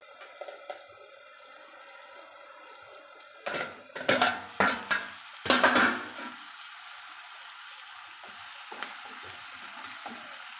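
Onions cooking on the stove in a pan under a lid, giving a faint low sizzle broken by a cluster of sharp metallic clanks from the pot and lid midway, then quieter simmering.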